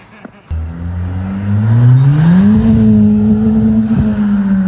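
A modified BMW drifts away from a car meet, its engine revving hard with a rising, sustained roar after a sharp start. Tire noise mixes in, and the car is loud and close.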